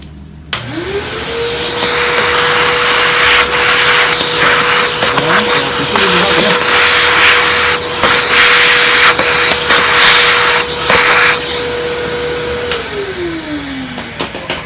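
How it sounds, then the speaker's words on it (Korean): A vacuum cleaner sucks coffee grounds out of an Anfim manual coffee grinder, its motor spinning up, roaring loud and steady at close range for about twelve seconds, then winding down. "일단 잘 안 보이니까 청소기로 먼저 한번 흡입을 하겠습니다"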